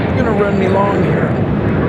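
A departing airplane at Raleigh-Durham airport gives off a loud, steady jet roar that fills the brief moment without pause.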